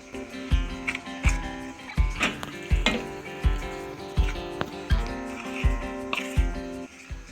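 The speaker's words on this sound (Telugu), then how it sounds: "ఇప్పుడు కొంచెం కొంచెం వేసుకొని కలుపుకుందాం." Idiyappam flour being mixed with hot beetroot water, a spoon or small ladle striking and scraping the vessel in a steady, regular beat of clinks roughly every half second, close and clear.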